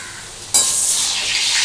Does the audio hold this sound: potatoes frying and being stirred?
yes